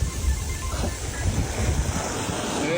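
Ocean waves wash and surge continuously with wind buffeting the microphone, a steady close roar of surf with no talking.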